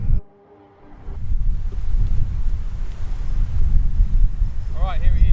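Wind blows hard across an open golf course, a loud continuous rumbling buffet on the microphone after a brief quiet start, with a short faint tone near the end.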